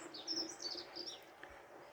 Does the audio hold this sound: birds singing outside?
yes